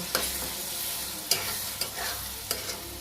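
Cabbage fry with turmeric and chili powder is stirred in a pan, a soft steady sizzle broken by a few sharp, close scrapes and taps of the spoon.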